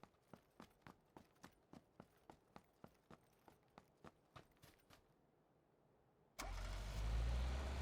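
A car engine in PUBG on Xbox One, Erangel remaster map, running with a steady rhythmic knocking that stops after about five seconds and is switched off. A short quiet gap follows, then a loud, dense roar cuts in.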